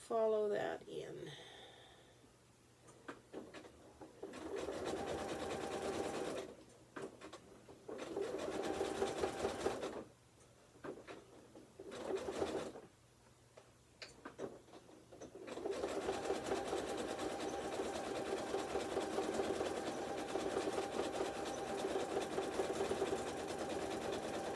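A sewing machine stitches a clothesline bowl in several bursts of fast, whirring stitching broken by pauses, then one long steady run, close by, with soft talk in between.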